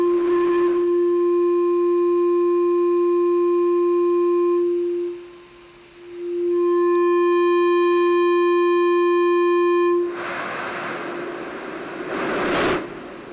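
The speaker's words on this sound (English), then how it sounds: "Now I'll change the tuning of the resonator. Let me make it higher." A steady tone from a synthesizer resonator tuned higher, with bright overtones, holds, dips briefly, returns, then gives way to a burst of hissy noise from low bandwidth and a quick rising sweep.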